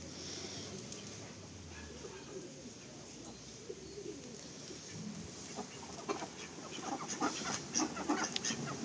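Pigeons coo and cluck nearby in a soft, low, repeated burble that grows busier toward the end, with faint voices in the background.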